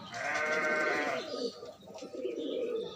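Rajshahi Giriraj pigeons, a fancy crested breed, kept indoors, make loud close bird calls with a long sustained burst at the start, followed by softer cooing and rustling.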